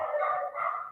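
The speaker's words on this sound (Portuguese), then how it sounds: "porque tem um monte de cachorro latindo aqui na rua." Dogs on a street bark in two sustained, fairly close bursts with no talking over them.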